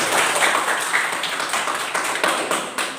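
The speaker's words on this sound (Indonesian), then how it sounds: "Tepuk tangan oleh kelompok 1" Classroom students applaud a group about to present, a dense patter of many hands clapping steadily for a few seconds, close and fairly loud, with no talk over it.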